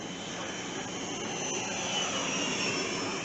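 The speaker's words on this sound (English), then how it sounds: "It's amazing how quiet that jet is." A Flex Innovations F-100D RC jet flies overhead, a quiet, steady electric-ducted-fan whoosh with a faint high whine, heard alone at moderate distance.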